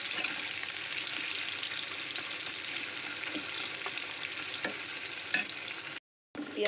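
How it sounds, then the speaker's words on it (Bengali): Onion rings fry in a pan with a steady, close hiss and crackle and occasional stirring knocks, the sizzle cutting out briefly near the end before resuming. "গোল করে রিং পিস করে নিয়েছি, এটা একটু ভেজে ব্রেস্তা করে নেব।"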